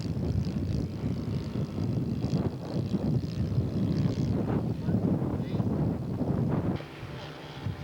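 A small propeller engine on a model airplane drones steadily as it passes overhead at an outdoor flying show, its pitch shifting slightly, with gusty wind rumbling underneath.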